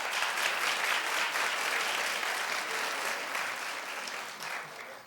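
A studio audience at a talk show bursts into loud, sustained applause, dense clapping that holds steady before tapering slightly near the end.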